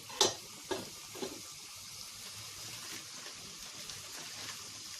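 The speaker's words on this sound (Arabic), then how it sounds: "هنا بقى الميه بتاعه المكرونه اهي غلت." A pot of pasta water at a rolling boil for Egyptian koshari, a steady hiss and bubbling after a few clinks at the start, close and moderately quiet.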